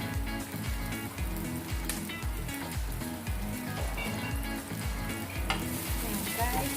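Onions with ginger stir-frying in oil in a pan for a pork and green mustard stir fry, a loud continuous sizzle with rhythmic stirring scrapes repeating about every half second, close by and with no talk.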